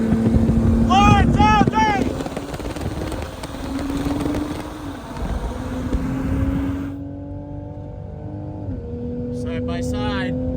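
A 2021 Toyota Supra with full bolt-ons on E85 and a 2019 Mercedes C63 S AMG with bolt-ons on E30 run a 55 mph roll race side by side. Engines roar loud and close over wind, easing off as the cars back out, with talk over the first seconds.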